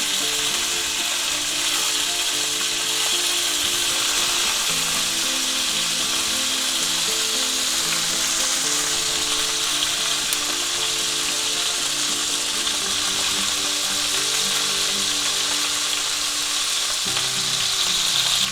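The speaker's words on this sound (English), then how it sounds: "let's take a little butter and start basting our nice chuck roast" A chuck roast sizzles loudly and continuously in a hot pan while being basted with butter, a dense, unbroken hiss of spattering fat lasting throughout with no voices.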